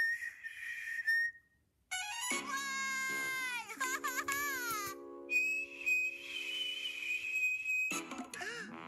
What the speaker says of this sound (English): it was not a great big whistle, not even a middle whistle, but it was a whistle